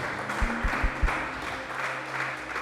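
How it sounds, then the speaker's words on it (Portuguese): Church congregation clapping during a worship service, a few distinct thumping claps up front blending into looser, moderately loud applause with low hum beneath. "Aí você pode aplaudir a Jesus."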